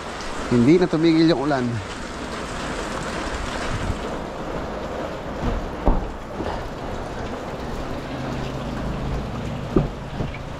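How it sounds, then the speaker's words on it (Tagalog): Steady heavy rain hisses throughout, with occasional knocks and a brief voice near the start. "Hindi na tumigil yung ulan."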